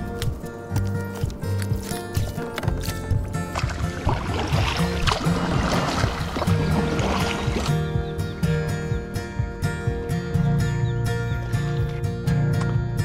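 A kayak paddle strokes through the water of the Swan River at a steady rhythm, each stroke bringing a close, dribbling splash and drip, continuous and fairly loud with no talking.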